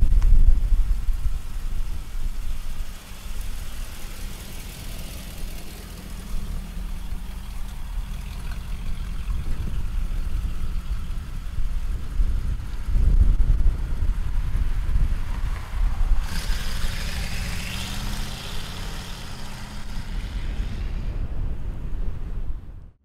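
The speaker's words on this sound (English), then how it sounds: "Listen to that exhaust." A 1989 Chevrolet Camaro IROC Z28 with a 5.7 engine idles with a low, steady exhaust rumble, joined by wind buffeting the microphone; no one speaks.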